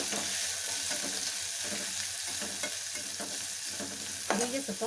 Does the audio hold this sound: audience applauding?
no